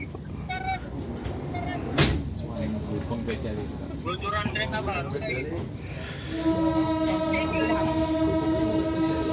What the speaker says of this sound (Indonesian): ini sudah berangkat kembali dari stasiun Surabaya Gubeng